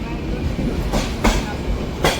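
A train runs on the Konkan Railway between Mumbai and Goa, a steady loud rumble heard from inside with a few sharp clicks of wheels over rail joints spaced roughly a second apart.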